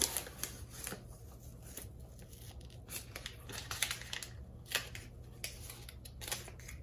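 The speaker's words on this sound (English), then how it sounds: "we're just going to take some tape off here" Tape is peeled off a Xaviere XV-560 guitar during neck crack repair, giving close, scratchy tearing and crinkling noises with sharp irregular pulls over a low steady hum.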